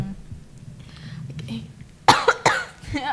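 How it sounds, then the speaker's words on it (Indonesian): Quiet talking and background murmur, then a quick run of three sharp coughs right near the listener. "Iya, batuk kayaknya."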